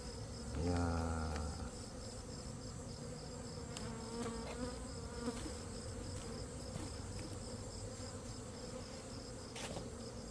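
Dense honeybee buzzing rises from an opened hive during an autumn inspection, a steady close drone with a louder burst early on and no voices.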